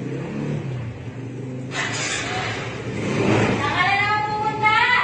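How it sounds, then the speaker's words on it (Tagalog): A motorcycle engine starts up with an odd, irregular noise, a low rumble that builds into a louder mid-pitched running tone toward the end, fairly close. "Kasi pag ini-start ko yung motor ko, may naririnig akong kakaibang tunog eh."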